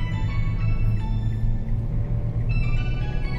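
A Mitsubishi Xpander Exceed with automatic transmission pulls out to overtake, heard from inside the cabin as a loud, steady low engine and road rumble that stays even throughout.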